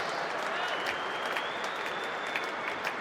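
Cricket spectators at Lord's clap steadily in appreciation of a batting century, a sustained ripple of applause with a few sharper claps standing out.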